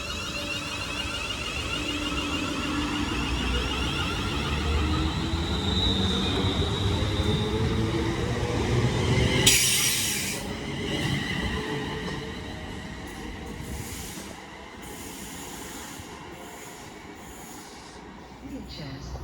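A West Midlands Railway service to Walsall pulls out of Birmingham New Street, a loud, close rumble of wheels and traction with a squeal and a sharp burst of hiss midway, then fading as it leaves the station.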